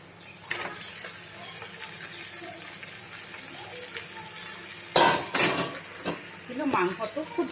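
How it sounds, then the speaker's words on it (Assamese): Duck meat is tipped into a hot pan for an Assamese-style duck curry. A low sizzle sits under a few metallic clinks, then a louder burst of clattering and frying follows as the meat goes in, close by and with no voices. "চাওক এই হাঁহ মাংসখিনি ঢালি দিলে"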